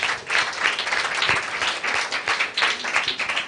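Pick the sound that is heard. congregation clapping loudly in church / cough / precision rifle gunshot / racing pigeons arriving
congregation clapping loudly in church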